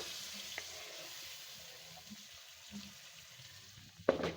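Tomato masala sizzles steadily in a pan while daal mash is fried street-dhaba style, a soft continuous hiss with a brief utensil clatter near the end.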